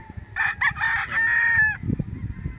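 A bulik gamecock rooster crows once on a farm, a loud drawn-out call lasting over a second, followed by low background rustling and farmyard noise.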